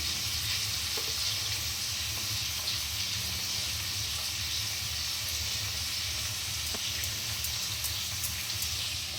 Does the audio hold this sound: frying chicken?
yes